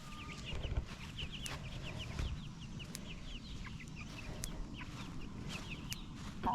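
Chickens cluck and chatter in a steady outdoor chorus, with a rooster's call mixed in and faint rustling underneath.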